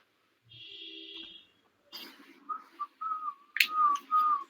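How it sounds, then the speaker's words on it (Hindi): A person whistles a clear sustained tone, a pause follows, then a brief wavering melody of short and gliding notes, fairly close and loud, with no talk over it. "सीटी बजाना बंद करो,"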